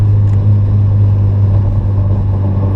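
A Honda Accord with a K24 engine revs steadily in first gear to about 3,500 RPM, a loud continuous low drone holding level throughout with no talk.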